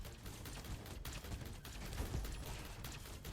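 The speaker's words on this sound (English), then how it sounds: "I'm taking damage to the very small explosions." Rapid, crackling bursts of small explosions in the video game Gatekeeper, quiet and continuous with clustered pops and no talk over them.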